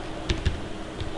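Keys clack on a computer keyboard while a command is entered into Windows PowerShell: three quick, separate taps, close and fairly quiet, with no voice over them.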